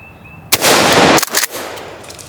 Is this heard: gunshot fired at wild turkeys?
yes